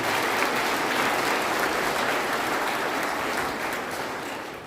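Steady hand clapping from a church congregation at a colourful Christmas carol service, dense and even throughout, fading slightly near the end with no voices over it.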